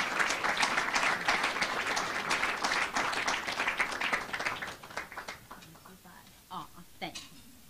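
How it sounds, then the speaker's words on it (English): Audience applause at an academic awards ceremony for alumni and students, a dense sustained clapping that thins out after about five seconds into a few scattered claps. "let's give Logan a warm round of applause"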